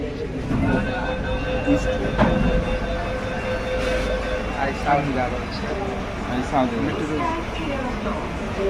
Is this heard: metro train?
yes